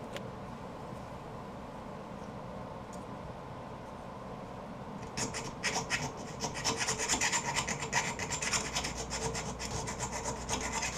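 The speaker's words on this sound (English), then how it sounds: "I had to enlarge it with the chainsaw file" A round chainsaw file rasps back and forth inside a drilled hole on a sawmill blade scraper, rhythmic gritty scraping strokes that start after a quieter stretch and continue close and fairly loud, with no voices.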